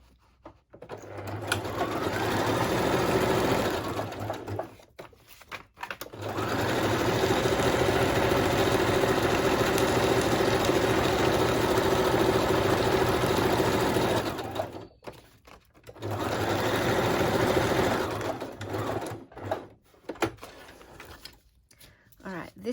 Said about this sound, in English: Now I'm going to sew this one with the pocket on the outside.